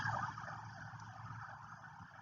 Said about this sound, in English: There was a police truck, I guess, that just went down the road.